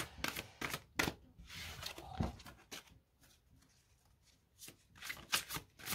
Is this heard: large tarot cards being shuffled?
yes